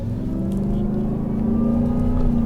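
A Shelby F-150 Super Snake pickup truck accelerates on a gravel-strewn asphalt road, its engine droning loud and close with a rising, throaty tone.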